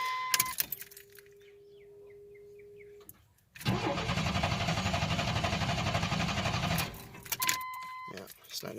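A 1993 Chevrolet S10 Blazer 4x4 with fuel injector trouble cranks steadily for several seconds without catching, loud and close, after a jingle of keys and a short whine, with a voice heard around it.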